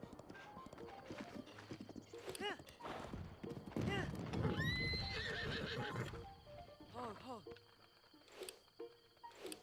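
Horse hooves clip-clop steadily while a horse neighs and whinnies several times in Zelda: Breath of the Wild, a ridden horse on the road of the Great Plateau, with game music and some talk over it.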